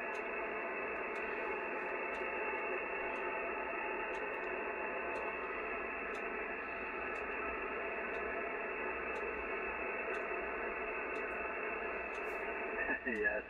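An Icom IC-7800 radio receiving the 20 meter band, giving a steady hiss of static with a faint voice-like signal buried in the noise and regular faint ticks, ending in a brief louder crackle.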